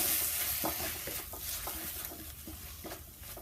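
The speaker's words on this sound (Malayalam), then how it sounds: "നമുക്ക് ഇളക്കിയിടാം" Kadai paneer masala being stirred in a frying pan, a continuous hot sizzle with rhythmic scraping strokes of the spatula, close and fairly loud, without voices.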